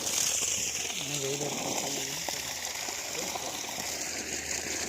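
Water gushes steadily from a 900W BLDC solar-powered pump, a continuous hissing stream that runs the whole time, with voices talking briefly over it.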